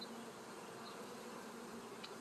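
A cascade of honeybees pours down at a hive, filling the air with a faint, steady buzzing drone and an occasional louder insect passing close.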